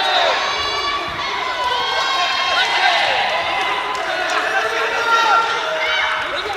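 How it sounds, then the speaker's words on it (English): Boxing crowd at the 2024 World Boxing Cup Finals in Sheffield cheering and shouting steadily throughout, a dense roar of voices with whistles and yells rising and falling, with a commentator talking over it. "Crowd really into this one, urging both boxers forward."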